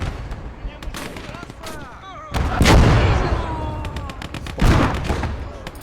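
Heavy 122 mm artillery fire in a war video game, several deep booming blasts with rumbling tails spread across the stretch, mixed with sharper gunfire cracks and a busy battle din, with some speech in the background.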